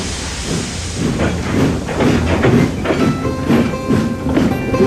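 A cartoon steam engine puffing as it buffers up to a slow goods train, with rhythmic chuffs and hissing steam over a rolling rail clatter, loud and close.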